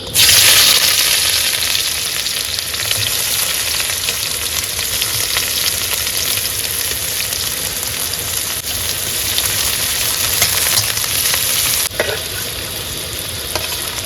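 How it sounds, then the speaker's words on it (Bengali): Chopped onion sizzles and crackles in hot oil in a wok, a loud, steady frying hiss held close for the whole stretch, with a brief dip near the end as it is stirred. "এবার দিয়ে দেবো কিন্তু পেঁয়াজ কুচি"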